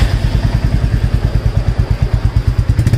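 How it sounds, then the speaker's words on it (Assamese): A motorcycle engine runs with a rapid, even low-pitched putter, close and loud, its regular thumping pulses continuing steadily for a few seconds. "তুই স্টার্ট কর বাইক"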